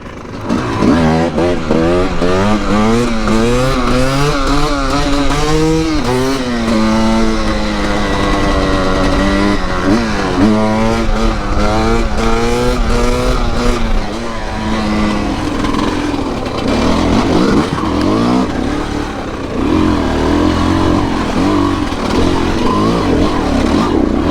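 A 2022 TM Racing en300fi dirt bike being ridden on hilly ground, its two-stroke engine loud and close, revving up and down repeatedly in rising and falling sweeps, with some rider noise mixed in.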